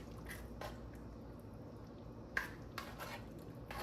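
Soft squishing and light clinks of a utensil against a pot as seasonings are stirred into a lasagna sauce, quiet and intermittent over low kitchen background noise.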